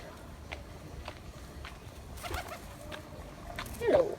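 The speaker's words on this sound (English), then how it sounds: "It's a pigeon." Soft, distant pigeon coos repeat at a slow, even pace around an old church and its stone promenade in Budapest. One closer, louder coo comes at the end against a faint background murmur.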